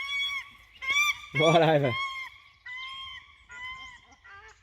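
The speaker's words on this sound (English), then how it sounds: "And here comes the paradise ducks to taunt me and look us straight over me." Paradise shelducks honk in a series of loud, nasal calls as they fly overhead near a truck, with a brief spoken remark in between.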